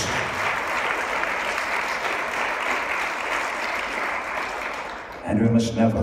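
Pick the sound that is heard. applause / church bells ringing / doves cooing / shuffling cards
applause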